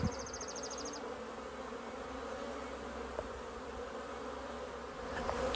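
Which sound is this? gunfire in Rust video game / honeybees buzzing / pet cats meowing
honeybees buzzing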